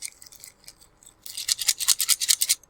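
A quick burst of light plastic-and-metal rattling of crochet hooks in a package, several rapid shakes in a row after a quieter start, close and crisp with no voices.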